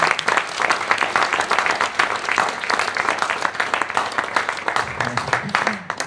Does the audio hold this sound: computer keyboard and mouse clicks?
no